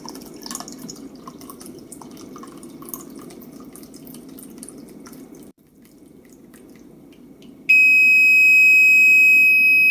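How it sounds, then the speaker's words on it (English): Coffee pouring into a mug with a say-when liquid level device hooked on the rim, a steady low trickle that drops off briefly, followed by a loud continuous electronic beeping alert. "And they're now pouring the coffee."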